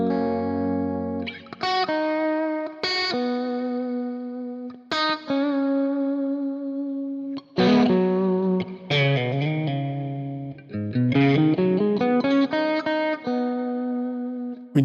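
Electric guitar plays pentatonic notes over a backing track with effects and distortion, mixing held tones and quick runs of picked notes.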